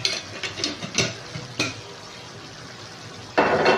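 Chicken curry with green chillies is stirred in a pan, with a few distinct scraping knocks early on over a soft background sizzle, then a burst of louder frying near the end.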